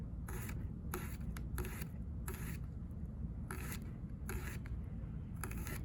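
A knife dices garlic on a cutting board in quick, uneven bursts of chopping and scraping strokes, close and fairly quiet, with no talk.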